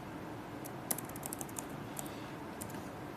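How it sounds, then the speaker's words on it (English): Light, quick taps on a computer keyboard, a short run of faint clicks and keystrokes in a quiet room with no voices. "So I'm just going to type here"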